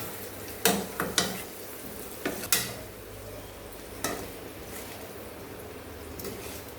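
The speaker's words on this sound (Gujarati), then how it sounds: "હળવા હાથે આપણે આને બરાબર મિક્સ કરી લેશું, જેથી કે વઘાર અને બટેકા બંને ભળી જાય" Boiled potatoes folded into a spiced tempering in a pan for a dry potato sabzi, several soft scraping knocks of a spoon against the pan over a faint sizzle.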